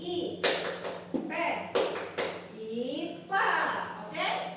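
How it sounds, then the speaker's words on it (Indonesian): A teacher leads the 'tepuk IPA' clapping rhythm in a classroom, sharp hand claps and taps falling in short patterned groups between chanted spoken words, close and clear. "Ibu ingin memeragakan gerakan tepuk IPA"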